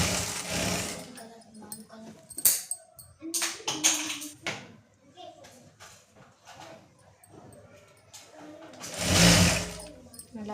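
Sewing machine stitching the joint seam of a straight-cut pant, with bursts of motor whir and needle clatter in short runs, close by, interrupted by handling taps and a louder burst near the end.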